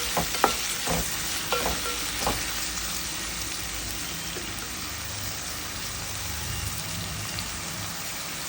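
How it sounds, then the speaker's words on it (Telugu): Murrel fish pieces fry in a pan for a fish curry, giving a steady close sizzle with a few sharp spatter pops near the start. There is no talking. "ఇవి మనకి పచ్చివాసన పోయి కొంచెం మంచి రంగు మారేంత వరకు ఫ్రై చేసుకోవాలి."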